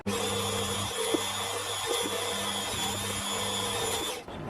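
A power drill bores steadily through a part of a Webster engine, giving a close, continuous whine with a constant hum beneath it, alone and with no voices.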